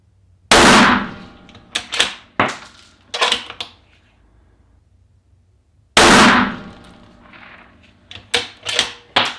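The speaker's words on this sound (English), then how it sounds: "let's just go ahead and follow that up with 2 more shots" Two sharp, loud rifle shots from an Accuracy International AT rifle, spaced several seconds apart, each followed by metallic clinks and clatter of the bolt and ejected brass.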